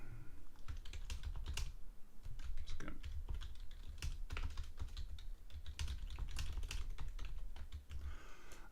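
Computer keyboard keys tapped in a steady flurry while a loop name is typed, continuous light clicks close by and fairly quiet, with no voices.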